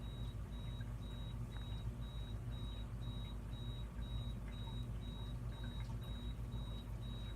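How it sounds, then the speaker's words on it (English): An alarm set for eight o'clock beeps in a rapid, evenly spaced series of short high tones, faint and distant over a low, constant background hum. "Turn off your alarm!"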